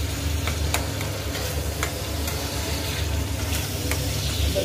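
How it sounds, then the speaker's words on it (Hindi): Steady hot-oil sizzling as spices are tempered for dal, with occasional sharp pops and crackles, close and continuous, over a low background hum. "दाल बन रही है तो तड़का लग रहा है"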